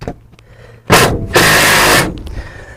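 Ryobi impact driver driving small screws, two loud close bursts of whirring and rattling impacts, the second one longer, with quiet pauses before and after and no talking.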